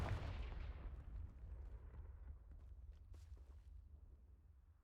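A Confringo spell in Hogwarts Legacy goes off as a deep, rumbling explosion at the start, loud and close, then fades into a low, lingering rumble with faint small thuds.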